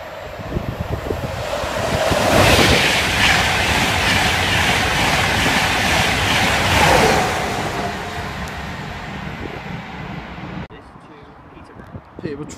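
An East Coast train passes through Stevenage station, its rumble and rushing noise swelling over several seconds, holding loud and close, then fading away to a quieter background.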